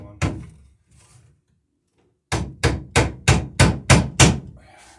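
Hammer blows drive planking onto an Alpha Beachcomber wooden boat: one sharp strike, a pause, then a quick run of seven loud, evenly spaced whacks, close and without talk.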